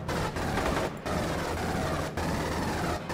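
Sustained automatic gunfire in the sci-fi shooter Aliens: Colonial Marines, a dense continuous rattle of rapid shots broken by a few very short pauses, loud and close.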